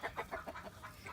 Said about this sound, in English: These will be my laying hens.